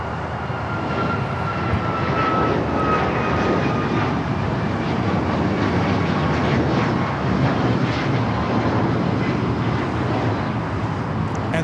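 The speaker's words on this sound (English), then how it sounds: "United Airlines 1621 taking off to Orlando, Florida on the MAX 9" A United Airlines Boeing 737 MAX 9 takes off from Los Angeles LAX bound for Orlando with a loud, sustained jet engine roar that stays strong and close throughout, with no talking.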